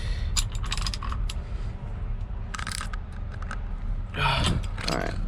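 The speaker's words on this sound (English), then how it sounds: "now I need to find my other ratchet, which is buried in this truck, to get the center bolt off" A ratchet works the 19mm center bolt of a truck steering wheel during a steering wheel install, giving a few short clicking, rattling bursts at close range with pauses between them.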